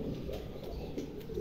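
Pigeons, a pair of Hungarian breed birds, coo softly in repeated low, soft calls over a faint background hum, quiet and close with no talking.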